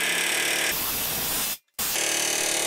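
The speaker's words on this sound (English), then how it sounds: "The next most destructive method is to employ an air hammer" An air hammer works on a tack-welded nut on a Toyota 4Runner fuel tank skid plate bracket: a loud, hissing, rattling burst runs continuously, drops out for a split second, then resumes.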